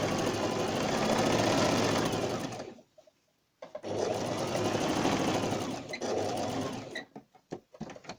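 A sewing machine running a top seam on a placket, fast steady whirring stitches up close, stopping briefly, then resuming in two more bursts with handling clicks and short stops near the end.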